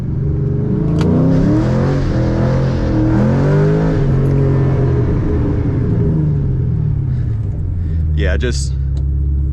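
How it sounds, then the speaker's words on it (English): A Ford Mustang doing a tire burnout, its engine revving and rumbling loudly and continuously up close, pitch rising and falling, with brief talk near the start. "a burnout. Pretty much what I expected."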